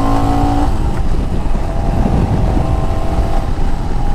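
A 2021 Royal Enfield Himalayan 400cc motorcycle engine is held at high revs toward its 7500 RPM redline, a loud, sustained, slightly rough roar with no pauses.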